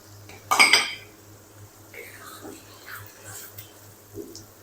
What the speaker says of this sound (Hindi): दाल हम इसके अंदर ऐड करते जाएंगे और स्पैचुले को आपने हिलाते रहना है ताकि ये नीचे लगे ना।